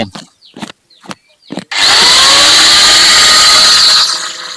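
A few sharp knocks, then an angle grinder powered through a banana stalk whirs to life with a loud, high-pitched continuous whine that holds steady before starting to wind down.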